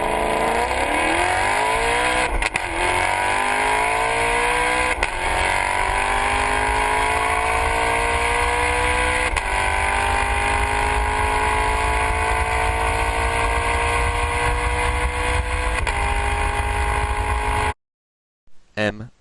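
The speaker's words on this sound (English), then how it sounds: "Maserati is supplied with engine developed together with Ferrari, a high revving, beautiful sounding unit." A naturally aspirated Maserati V8, developed together with Ferrari, revs hard and loud for about 17 seconds, its pitch climbing steadily in a continuous high-revving wail before cutting off abruptly.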